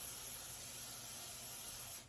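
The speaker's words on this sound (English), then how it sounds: "Just make sure that each one is sprayed so that the donuts aren't going to stick." A continuous hiss of cooking spray onto a donut pan, close and steady, lasting about two seconds before cutting off.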